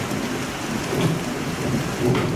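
Heavy downpour with rolling thunder during a storm that floods a residential street, steady loud roar of rain hitting surfaces with low rumbles swelling throughout, no voices.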